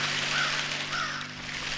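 A crow caws twice in a video game, loud and close, over a steady low hum of background ambience.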